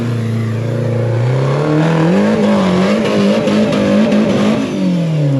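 Off-road crawler buggy with 4-wheel steering at an OHV park, its engine running after a fuel pump repair: a loud, steady roar that revs up and down, its pitch rising and wavering as the throttle works.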